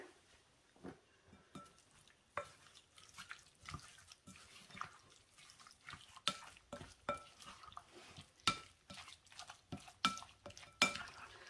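Crab meat dip with dill and Old Bay seasoning being stirred in a bowl: soft, irregular scraping and clinking of a utensil, repeated quickly and close, with no talk.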